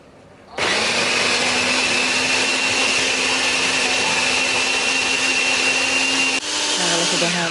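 An electric blender grinds chili and dried shrimp with a little added water into a spice paste, a loud steady motor whir starting abruptly and running continuously before the pitch drops near the end.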